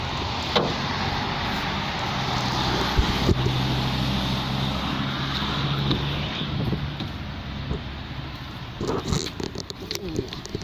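A 1.8-litre G4NB engine in a Hyundai i30 Active X runs at a steady idle. The low hum is continuous and of moderate volume, and outdoor wind and background noise sit over it.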